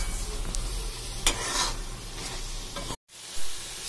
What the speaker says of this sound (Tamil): திருப்பி நல்லா கிளறி விடுங்க